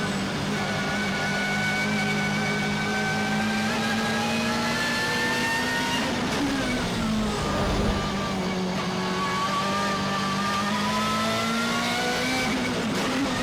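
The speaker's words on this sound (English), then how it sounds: "I can hear his engine." A race car's engine revs hard in Need for Speed Most Wanted during a circuit race, a loud continuous whine that climbs and drops with gear changes, running without pause under faint game noise.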